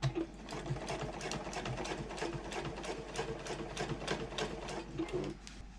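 A sewing machine stitches steadily across a handbag seam, a rapid, even, rhythmic needle patter at close range that runs continuously and fairly quietly before easing off at the end.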